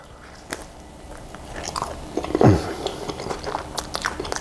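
Someone bites into fluffy festival flatbread, a Jamaican fried dough served with ackee, with one close crunchy bite at mid-clip amid soft quieter chewing sounds.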